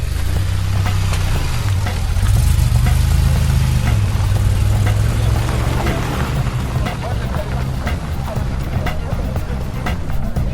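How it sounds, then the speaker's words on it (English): DeLorean DMC-12 engine running nearby, a loud, deep, throbbing engine note that rises in pitch and then settles into a steady rumble, with people talking in the background. "The sound of a DeLorean."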